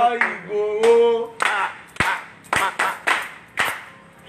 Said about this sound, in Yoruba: Àṣẹ pàtẹ́wọ́ ẹ̀kún pàtẹ́wọ́